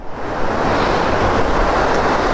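Water gushes through the gates of the Koshi barrage in a loud, continuous broadband roar, close and unbroken, with no voices over it.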